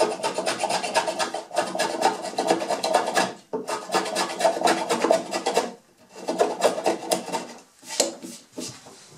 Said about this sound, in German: hier bearbeite ich jetzt gerade diese Eichenanleimung, damit sie schön passt